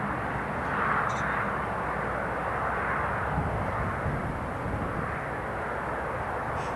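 A KLM airliner taking off at Newcastle International Airport makes a distant, steady jet rumble and hiss that stays even and moderately faint throughout, with no talking.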